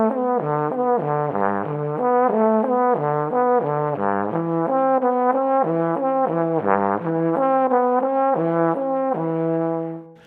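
Trombone plays a flowing arpeggio in the style of a Bach cello suite, with the third leapt up an octave. Steady legato notes rise and fall in repeating patterns, played solo and close.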